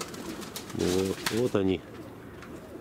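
Mozdok and Leninakan pigeons coo in short harmonic bursts, about three close calls over a faint outdoor background, with a brief spoken word.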